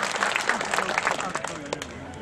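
Audience applause for the chief guest at a Rajasthan government program in Churu, a brief burst of crowd clapping at moderate loudness.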